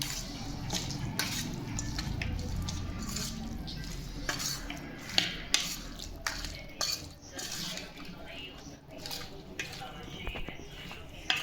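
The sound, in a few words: stirring yogurt into chicken biryani mixture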